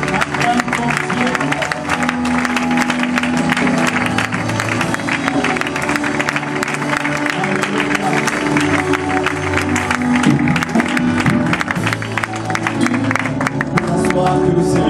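A church congregation claps and cheers in praise of the Lord after a prayer, with a dense, steady wash of applause sustained loudly for the whole stretch and voices mixed in.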